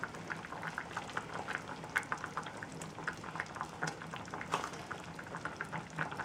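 Sausages simmering in a pot of Finnish sausage soup, with a steady bubbling boil and faint irregular pops, close and fairly quiet, with no talking.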